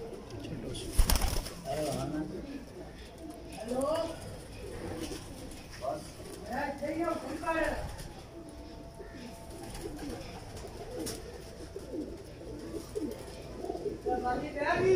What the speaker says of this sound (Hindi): ओरिजिनल कबूतर हैं कमगर, जिनका आपको शौक़ करवा रहे हैं